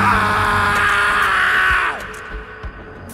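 A man standing in the middle of a road with arms spread lets out a long, loud scream toward the sky that fades off after about two seconds, followed by a few faint thumps.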